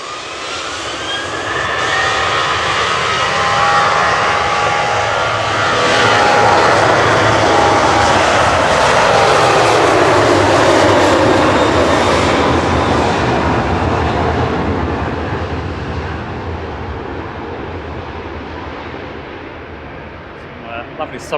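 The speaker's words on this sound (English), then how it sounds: "Ryanair off to Alicante, 9HQAT, 737-800 with flight 4007" Ryanair Boeing 737-800 jet departing, a loud building engine roar that swells and peaks midway with whining tones, then slowly fades into the distance, with a voice talking faintly over it.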